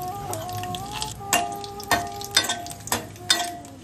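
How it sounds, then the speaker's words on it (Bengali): Cumin seeds, bay leaf and dried chillies sizzle and crackle in hot mustard oil, a steady frying hiss broken by several sharp pops and spatters close by, no voices. "গরম সর্ষের তেলে জিরে, তেজপাতা, শুকনো লঙ্কা দিয়ে দিলাম।"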